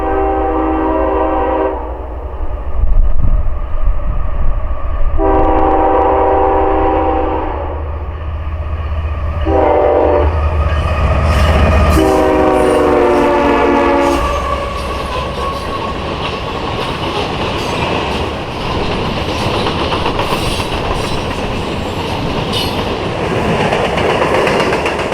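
A CSX freight train led by a GE GEVO locomotive sounds its horn in several long loud blasts, then thunders past close by with rumbling, rattling wagons that continue steadily to the end.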